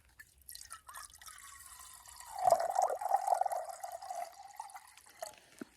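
Water is poured from a hydration bladder into a container for a backcountry meal on a slope during a Colorado elk hunt. A faint trickle swells into a close, gurgling fill for about three seconds, then tapers off.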